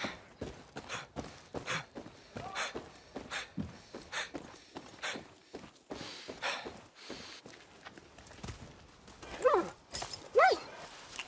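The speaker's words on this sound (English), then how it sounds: "You're such a good dog." A dog in the video game Far Cry 6 pants and moves close by amid rhythmic trotting, then whimpers in two short high-pitched bursts near the end.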